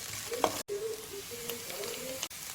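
Chopped green onion and a little garlic fry in oil in a pan for a seafood noodle soup, giving a steady close sizzle with a faint hiss, broken by two brief dropouts.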